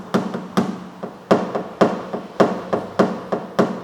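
Paintless dent repair hammer taps on a car body panel, about eight sharp metallic knocks in an uneven rhythm, close and distinct with no talk.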